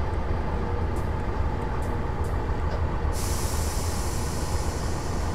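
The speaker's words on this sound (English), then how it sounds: "I'm going to apply the brakes." Train air brakes applied on a Class train in Train Simulator 2015, a steady loud rushing hiss of air over continuous rumbling running noise, with a brighter hiss swelling partway through.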